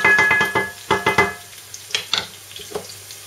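Garlic and vegetables hit hot oil in a pan and sizzle, with bursts of stirring and scraping at first, then softer intermittent crackles, close up, no voices.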